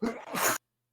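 A single short, sharp sneeze bursts out close and loud, then cuts off into silence.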